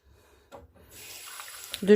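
Cold tap water begins flowing from a kitchen faucet after a brief pause, building into a steady close hiss and splash that grows louder toward the end as a container fills.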